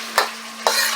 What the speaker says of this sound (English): Go ahead to get the rest of our bok choy mixed in with that.